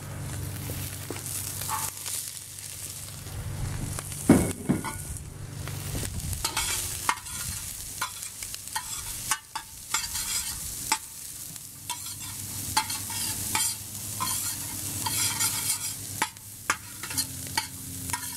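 Cauliflower fried rice is stir-fried in a hot pan, with a steady sizzle beneath repeated scraping and tossing strokes of a utensil against the pan, close and continuous.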